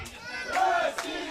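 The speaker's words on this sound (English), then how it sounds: "And Russia shouts from the crowd." Crowd at a women's sports match bursts into a brief, loud chant of "Russia," two rising shouts over general arena noise.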